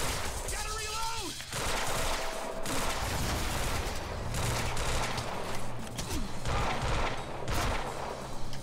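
Rapid video-game gunfire in Quantum Break, sustained bursts of shots layered with a few voices, steady and loud throughout.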